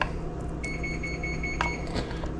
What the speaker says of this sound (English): that's the sound of the oven